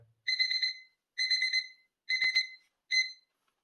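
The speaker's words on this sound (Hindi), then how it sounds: "तो ये इस तरह अलार्म होता है" Timer alarm on a 12V water heater beeps in four short bursts of rapid electronic tones, evenly spaced, clear and close with silence between.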